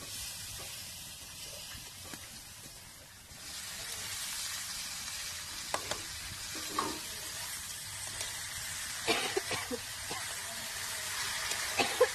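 Water lily stems go into a hot pan and sizzle, a soft steady hiss rising after a few seconds with faint stirring clicks and scrapes throughout.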